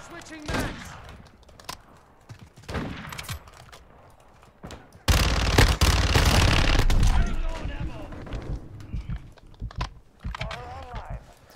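Bursts of player gunfire in Modern Warfare 2, a short shot or two early then a loud sustained automatic burst mid-clip, with someone talking between the shots.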